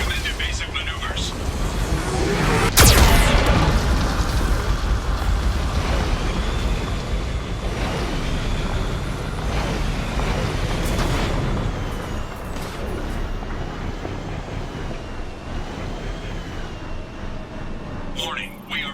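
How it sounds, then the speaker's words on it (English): Geth cannon fire and explosions in the video game Mass Effect 2, a sharp blast followed by rumbling booms and battle noise, with a synthetic voice speaking warnings over the din. "Warning, Geth cannon is locking on our location."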